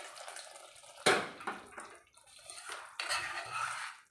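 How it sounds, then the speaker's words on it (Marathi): Hot water poured into masala in a pan for butter paneer masala, a splash and a sharp sizzle followed by bubbling and a few metallic clinks, quiet and close. "त्यासाठी पाणी घालून घेते।"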